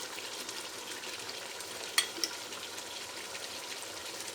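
Tomatoes frying in masala for a chicken and cauliflower (chicken gobi) curry, a steady, fairly quiet hiss with a brief clink of a utensil against the pot partway through.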